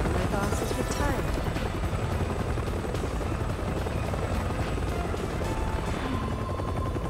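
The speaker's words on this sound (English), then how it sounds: "Oh, there's this helicopter." Helicopter in the video game Resident Evil 6, a steady, loud rotor drone filling the whole clip with faint gunfire-like bursts mixed in.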